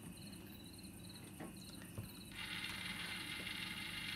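Modulating valve actuator controlled by a Nest thermostat: faint, close mechanical whirring and ticking, with short repeated high whine pulses and then a steadier grinding motor hum, very quiet, with no talk.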